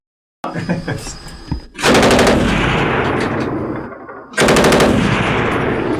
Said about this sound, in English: 20-round killing burst.